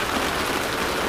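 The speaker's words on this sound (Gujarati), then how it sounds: "હજુ જો ધીમો ધીમો ચાલુ જ છે વરસાદ" Light rain falls steadily in a village, making a soft, even patter with no breaks.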